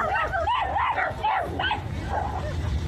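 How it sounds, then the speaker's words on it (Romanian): A Tackle-breed dog yips and whines in a quick run of high, bending barks while playing and chasing a Spot robot dog, close and loud over a low background hum. "Un cățel din rasa Tackle și un alt câine robot numit Spot se fugăresc și se joacă"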